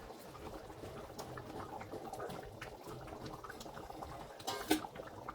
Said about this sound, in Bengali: দেখুন হাই ফ্লেমে টকবক করে 2-3 মিনিট ঝোলটাকে ফুটিয়ে নিয়েছি